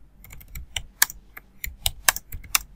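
Quick, irregular keystrokes on a computer keyboard, close and crisp, with bursts of taps and brief pauses over nearly three seconds while building data is entered into structural analysis software.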